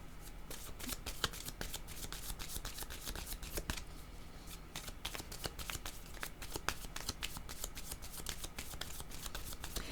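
Oracle cards being shuffled by hand make a continuous run of crisp riffling and flicking bursts, close and even throughout, with no talking.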